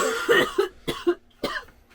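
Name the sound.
coughing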